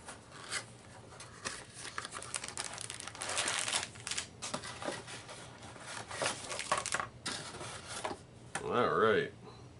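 A cheap cardboard box sealed with flimsy tape being pulled and torn open: continuous close crinkling, rasping and scraping with louder bursts around the middle, ending in a brief strained effort. A voice is faintly present.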